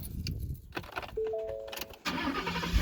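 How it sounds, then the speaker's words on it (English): Ford F-150 pickup truck engine cranking and catching at about two seconds, then settling into a steady idle, preceded by soft clicks and faint electronic chimes from the cab. "start the vehicle"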